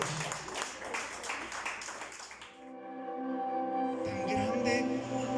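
Church congregation applauding during a Spanish-language worship service, a dense patter of clapping that fades after a few seconds into sustained organ or keyboard chords.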